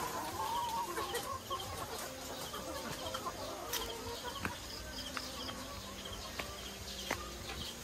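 Native laying hens on a farm cluck and cackle at moderate distance over a constant buzzing of insects, with scattered sharp calls rising above the background chatter and no speech.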